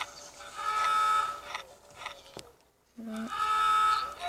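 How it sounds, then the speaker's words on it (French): Hungry-shark alarm in the mobile game Hungry Shark, a moderately loud electronic buzzing tone that sounds twice with a short silent gap between, over quiet game background. "Quand le requin est affamé, ça fait comme si il y a une alarme qui retentit"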